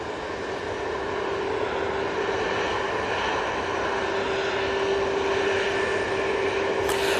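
An Airbus A321neo jet airliner with half its decals missing passes at Manchester Airport, a loud, steady engine roar with a sustained tonal whine, continuous for the whole stretch.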